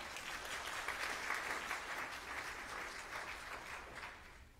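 A church congregation claps during a Lenten evening service, a dense, steady patter of many hands that runs evenly from start to finish at moderate distance, with no talking over it.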